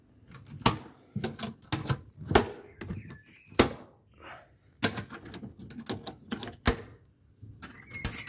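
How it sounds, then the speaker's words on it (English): SRS201 street light fixture having its bowl closed, producing a series of sharp metallic clacks, thunks and latch clicks at irregular intervals, close up, with faint handling noise between them. "First, I'm gonna close the bowl."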